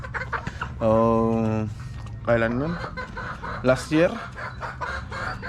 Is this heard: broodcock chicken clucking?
yes